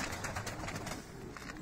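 Pigeons coo in a loft of Turkish show birds, soft repeated cooing under steady background noise, faint and fairly close, with no talk.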